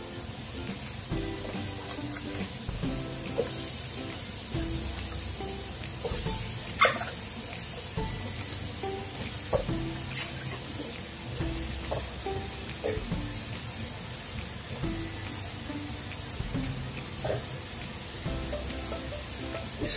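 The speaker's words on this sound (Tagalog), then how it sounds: "Isutay mo lang siya, haluin hanggat mahalo yung mga sangkap." Eggplant and ginger sauté in a pan with a steady, close sizzle, broken by soft clinks and stirring scrapes throughout.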